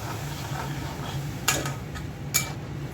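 Shrimp are stirred in a frying pan over a faint background hiss, and two crisp clinks of a utensil against the pan ring out close by.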